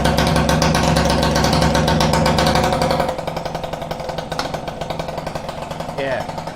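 A Peugeot Fox 50cc moped engine fitted with a Leovince ZX silencer exhaust runs close by with a rapid buzzing rattle, loud at first, then dropping to a quieter, uneven idle with sputtering pulses.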